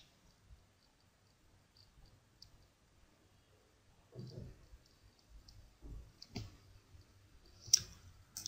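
Computer mouse clicks from someone working in Excel spreadsheet software: faint, scattered clicks with a few louder taps near the end, in a quiet room with no talking.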